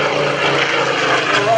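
Supermarine Spitfire Mark 18 piston engine roaring steadily at an airshow, a loud continuous propeller-driven drone with voices faintly underneath.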